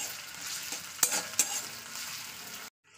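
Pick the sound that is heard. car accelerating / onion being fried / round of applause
onion being fried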